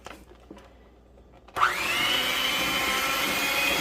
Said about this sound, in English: I have to use my hand mixer.